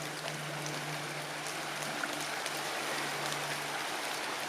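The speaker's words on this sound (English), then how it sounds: "Creek is flowing." A rain-swollen creek flowing, a faint, steady wash of running water with a continuous broadband hiss and a low hum underneath, no voices.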